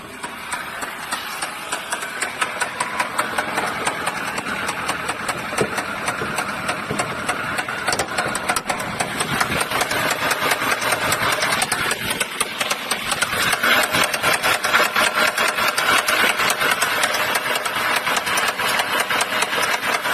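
Nissan CR14DE engine running with a knocking fault, loud and close with a steady rapid metallic ticking and clatter over a continuous rough idle drone, no speech.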